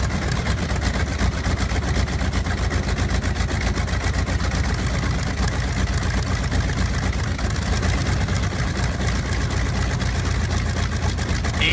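A backwards-mounted B-29 aircraft engine runs nearby with a constant heavy, rapidly pulsing roar that stays steady throughout, with no talking.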